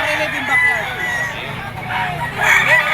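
A yellow-legged stag rooster of Boston Sweater bloodline crows loudly and close at a pet market, one drawn-out crow with clucking and someone talking over it.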